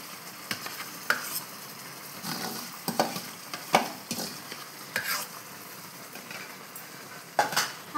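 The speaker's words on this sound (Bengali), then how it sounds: "আমটি দিয়ে এবারে আমি সমানে লাড়াচাড়া করতে থাকবো" Raw mango pieces are stirred through molten caramelized sugar in a pan, giving soft scraping and sticky sizzling with intermittent clinks of a spoon against the pan, close and moderately quiet.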